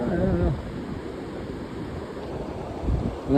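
Wind buffets the microphone over a steady wash of sea waves on a beach, a continuous rushing roar, with people's voices briefly heard at the start and end.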